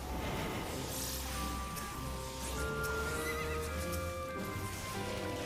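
A Kelpie, a horse-like creature in Final Fantasy XIV, gives a wavering whinny over a steady ambient game background. The neigh is moderately loud and runs for several seconds.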